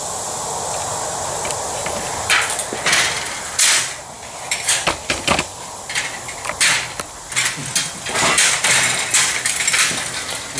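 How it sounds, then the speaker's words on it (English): Footsteps clang across a metal floor in a metalworking shop with a home-built CNC cutter, giving an irregular series of loud ringing metallic hits and scrapes over a steady hiss, close by. "We're walking on metal, sorry about the noise."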